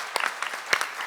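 Applause breaks out at a church seminar, a short burst of scattered clapping from a gathered audience, fairly close and moderately loud.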